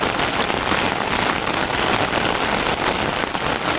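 Heavy rain pours steadily in a dark rural spot near a railway line and a pond, a dense, loud, even hiss of drops hitting surfaces with no break throughout.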